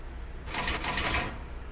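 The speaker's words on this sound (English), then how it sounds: "I guess I have to take that elevator." Elevator in the video game We Happy Few starting up, a short mechanical whir and rattle of gears rising for about a second then easing off over a low hum.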